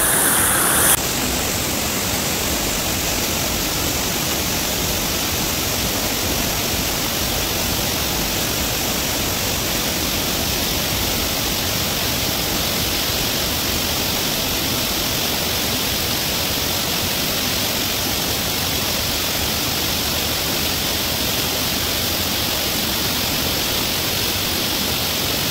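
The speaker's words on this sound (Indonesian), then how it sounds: "Tapi kalau sekarang lagi deras, 3-tiganya ada aliran airnya." Curug Tebing, a triple waterfall at Pamijahan, Bogor, flows strongly after rain, producing a loud, steady broadband roar of rushing water that holds unchanged for the whole stretch with no voices.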